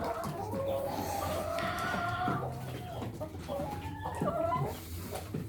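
Backyard chickens cluck and squawk close by, a busy overlapping chatter of hens with rising calls and short clucks continuing throughout.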